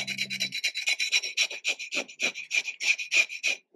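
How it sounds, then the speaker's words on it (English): A knife scrapes a pompano fish clean in quick, rhythmic rasping strokes, close and distinct, roughly three or four strokes per second, with no talking. "I really scrape it out like this,"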